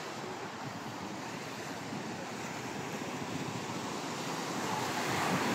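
Ocean waves break and wash continuously on a Mindoro shoreline, a steady broad roar of surf with wind buffeting the microphone, swelling slightly louder toward the end, with no voices.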